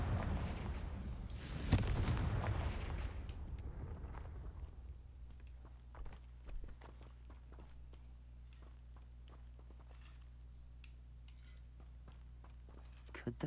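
A Confringo blasting spell in Hogwarts Legacy lets off one loud burst near the start that rolls away quickly. Quiet, even footsteps and small taps follow.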